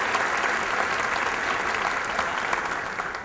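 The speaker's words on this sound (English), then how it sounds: "Give them a round of applause," Audience applause for students at a city address by a mayor, a steady, dense wash of clapping from a large crowd, loud and continuous for a few seconds before easing slightly at the end.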